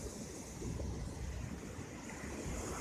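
Water pours downward into a silted reservoir fed by the Wisłok river in Rzeszów, a soft, steady rushing wash heard from a distance with some wind buffeting and no voices.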